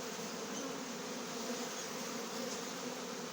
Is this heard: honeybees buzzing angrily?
yes